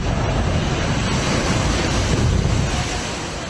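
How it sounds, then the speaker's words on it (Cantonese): Typhoon storm surge waves surging over a seaside promenade at Tseung Kwan O, Hong Kong, a loud, dense, continuous roar of rushing water mixed with heavy wind buffeting, easing slightly at the very end. "風暴潮令到水位急劇上漲，將軍澳海濱長廊海水直接湧上岸。"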